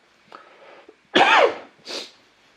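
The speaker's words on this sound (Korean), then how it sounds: "기침을 이렇게 많이 하는데" A person coughs once sharply and loudly, preceded by a small throat sound and followed by a softer second cough, close up.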